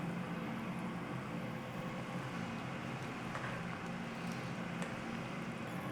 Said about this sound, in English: I have an air fryer on behind me.